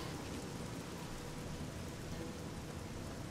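Rain in the Fallout 3 video game, a steady, even hiss of falling rain spread across the whole moment at moderate level, with no talk.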